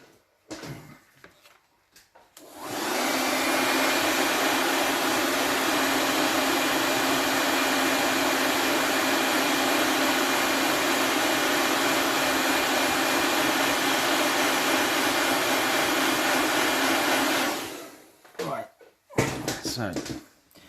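A hair dryer runs on a freshly painted miniature figure, starting after about two seconds, holding a loud, steady whoosh and hum for roughly fifteen seconds, then cutting off, with faint handling noises before and after.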